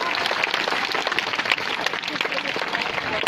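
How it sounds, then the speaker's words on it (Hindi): An audience at a taluka-level science exhibition applauds the winning students, with dense, steady clapping from many hands filling the space throughout, loud and continuous. "सभी से अनुरोध है कि उन्होंने तालियां बजाकर इन विजयी विद्यार्थियों का"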